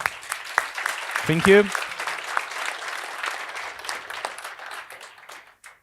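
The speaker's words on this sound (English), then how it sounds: "a big round of applause for Jerzy" Audience applause after a conference talk on word vectors, a steady patter of clapping running through the clip with a voice speaking briefly over it near the start.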